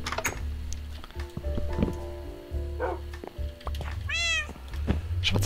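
A cat meows in the video game Minecraft, a short rising-falling mew near the end. Thuds, clicks and a low steady background hum surround it.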